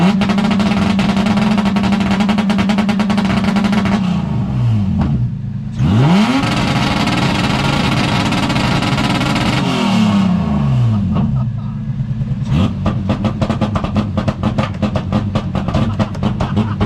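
A car engine revs hard at a street car meet that turns into drag racing, loud and close, climbing and falling through repeated surges, then a rapid staccato crackle, with crowd voices faintly mixed in.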